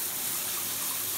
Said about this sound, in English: I'm gonna go take a shower, but I'm not gonna wash my hair.